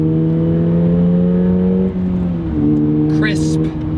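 A Toyota GR86 with a manual gearbox revs steadily, the engine note dropping at two quick gear shifts before pulling again, loud and close, with a brief whine near the end.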